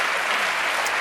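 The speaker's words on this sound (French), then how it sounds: "Ça s'applaudit, mesdames, messieurs, ça s'applaudit." A French television studio audience applauds on a variety talk show, a short, steady burst of dense clapping that stays loud and even throughout.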